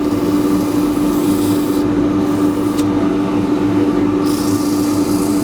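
Abrasive is pressed against a small natural-edge wooden bowl spinning on a lathe, making a steady, close rubbing hiss over the motor's hum, with the sanding briefly easing twice.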